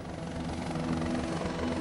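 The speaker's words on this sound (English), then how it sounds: "The Navy is sending a helicopter on a live-action exercise." A Navy helicopter flies a live rescue exercise at sea over a shipping route off France. Its steady rotor thrum and turbine whine hold loud and close for the whole short stretch, with no talk.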